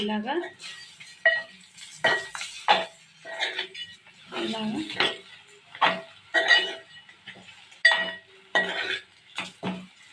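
A spoon scrapes and clinks against a pan while mixing egg with garlic chilli fry, in irregular bursts of knocks and stirring, with brief pauses between strokes and a faint sizzle.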